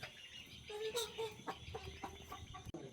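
A three-month-old local chicken chick gives several short clucks and chirps in an uneven rhythm. The calls are close and moderately loud over quiet farmyard background, and a sharp click sounds near the end.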